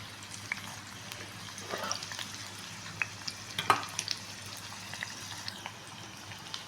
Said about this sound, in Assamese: কেৰাহীখনত মিঠাতেল দি দিছোঁ। তেল গৰম হ'ল। এতিয়া ইয়াতে পিঁয়াজখিনি দিম।